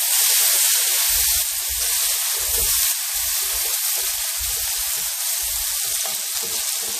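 Minced garlic frying in a pan over medium heat, a steady bright sizzle with soft low bubbling pops scattered throughout, close and even in level; no voices.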